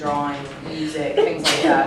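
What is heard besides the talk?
sneeze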